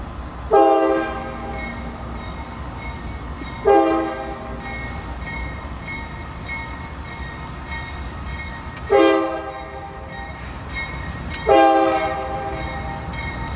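A Norfolk Southern freight train passes, sounding its horn in four loud, separate blasts spaced a few seconds apart over a constant rumble of rolling wagons nearby.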